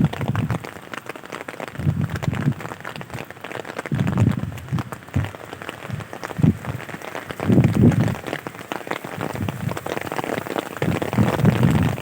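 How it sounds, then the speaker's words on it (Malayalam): Dense rain pouring and splattering on a nearby surface, a continuous rushing patter with heavier bursts of drops, loud and close. "നല്ല മഴ"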